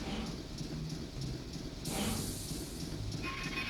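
Steady rumbling hiss of a train in the video game Banjo-Tooie, continuous and even, with a brighter shift partway through and a faint tonal whine toward the end.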